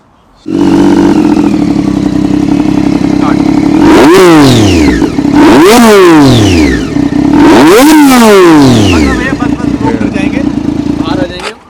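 A loud Triumph Daytona 675 sport motorcycle engine idles roughly, then revs hard three times in quick succession, each rev rising sharply and falling back to a rumbling idle.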